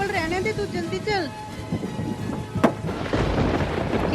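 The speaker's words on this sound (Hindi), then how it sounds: "कितनी तूफानी बारिश हो रही है आज" Stormy rain pours as a loud crack of thunder breaks out, followed by a rushing downpour, with voices speaking early on over the weather.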